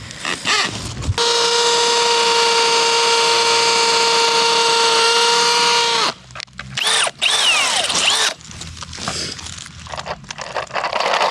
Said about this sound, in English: 1/8 drill bit and drill it every 24 inch in order to get a screw to go in